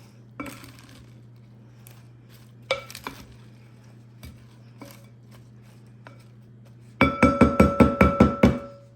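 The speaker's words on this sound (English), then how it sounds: "just toss it with the other salad" Lettuce salad being tossed in a bowl, a few soft rustles and taps early on, then a rapid run of sharp clinking utensil knocks near the end, no talking.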